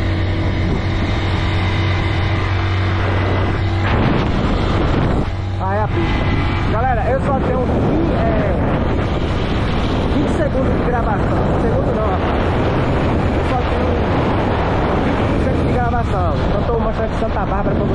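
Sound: motorcycle riding on a highway

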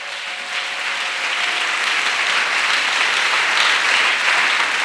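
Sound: congregation applauding and clapping

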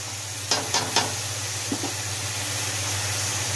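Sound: onion frying in oil with black cardamom

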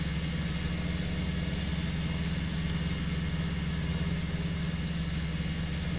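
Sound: tractors running in a field

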